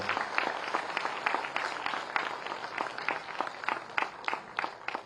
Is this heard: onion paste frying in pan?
no